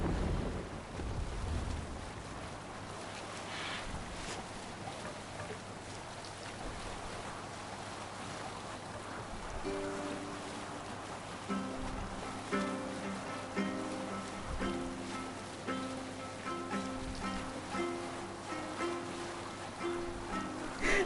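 Viking longship under sail at sea in the game Valhalla, with steady wind and water rushing around the hull for the whole stretch, while a low musical drone rises midway and continues beneath it.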